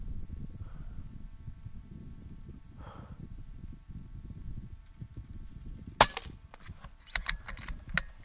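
A DAR .25 Gen 3 air rifle is cocked with its cocking handle, giving one sharp metallic click followed by a quick cluster of smaller clacks, close and crisp over a low background hum.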